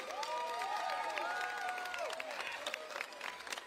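A crowd at a live heritage dance performance claps and cheers steadily, with whistles and high shouts riding over a sustained wash of applause.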